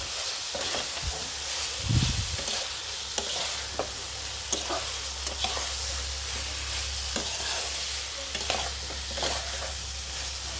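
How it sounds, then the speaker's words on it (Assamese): Potatoes and soybean chunks fry with spices in an oily pan for an Assamese curry, giving a steady close sizzle broken by repeated scraping stirs, with a brief thump of ingredients near the start. "এতিয়া মই আলু আৰু সয়াবিনখিনি মছলাখিনিৰ সৈতে 2 পৰা 3 মিনিট টাইম ভালকৈ ফ্ৰাই কৰি ল'ম"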